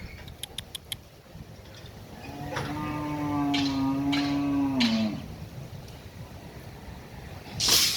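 A young calf lets out one long, loud, slightly falling moo outdoors, nearby, preceded by a few faint clicks and followed by quiet background.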